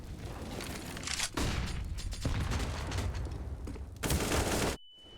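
Rapid gunfire crackles through a Counter-Strike: Global Offensive match in a DreamHack Masters esports broadcast, dense bursts filling most of the stretch, with a louder volley near the end before a sudden cut to a thin tone.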